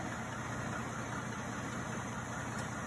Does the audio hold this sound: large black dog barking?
no